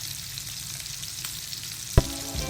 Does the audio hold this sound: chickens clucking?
no